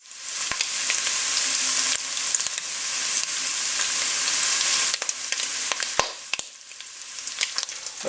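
Bacon sizzles loudly in a pan with a dense, crackling hiss that carries on throughout, broken by sharp pops and a few brief scraping stirs.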